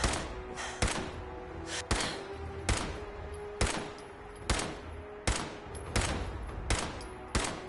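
Gunshots ring out in Fallout 4, a steady series of loud, sharp blasts about one per second, each with a short echoing tail, standing alone with no talk.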